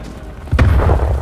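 A stun grenade goes off in Call of Duty: Black Ops Cold War, a single sharp close pop followed by a deep, rumbling boom that lingers briefly.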